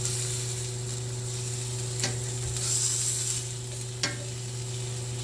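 Food browning in a hot pan gives a steady sizzle with faint stirring scrapes and a couple of sharp utensil clicks, with no talking.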